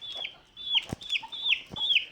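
Chickens cluck close up, a quick series of sharp, rising clucks with soft thuds between them.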